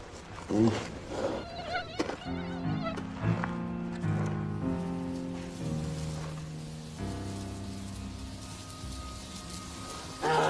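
Insects swarm on a hot 28-degree Celsius day in polar bear country, making a close, continuous whining drone whose pitch wavers as they fly around.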